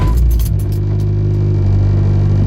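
A Dodge Caliber SRT4 engine cranks and catches, then settles into a loud, steady, close-up idle rumble with no talking.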